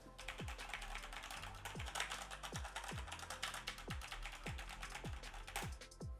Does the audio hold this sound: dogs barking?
no